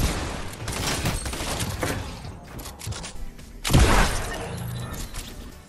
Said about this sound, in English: That's right, I just shot you through a wall.